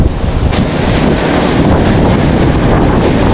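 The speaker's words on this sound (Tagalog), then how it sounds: "Hindi biro ang mga alon dito." Loud, roaring sea waves and strong wind buffeting the microphone aboard a fishing boat, a continuous heavy rush of surf with no talk.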